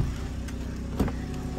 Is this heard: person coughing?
no